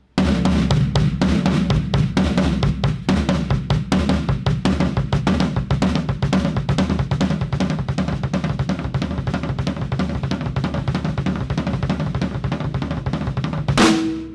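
A drum kit plays fast triplets with doubled bass drum strokes, a steady pattern of rapid hits with driving repeated bass drum beats, ending with a ringing cymbal-like tone.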